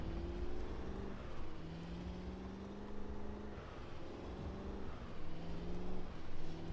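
A car drives in the zombie survival video game Project Zomboid, its engine hum rising and falling through gear-like pitch steps at a steady moderate volume, with no voices.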